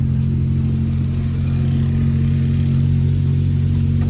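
Steady engine drone of a modified Honda Civic being driven, loud and continuous with a strong low hum and broadband road and wind rush throughout.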